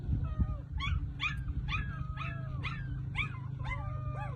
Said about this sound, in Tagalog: Mga aso ko. Tuta.